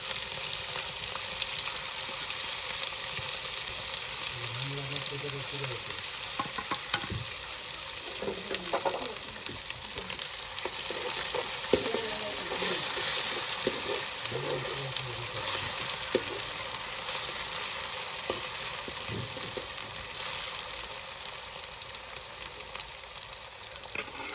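Garlic and green chillies sizzle and fry in a pan for a Gujarati corn curry, a steady hiss with occasional stirring scrapes, close and moderately loud.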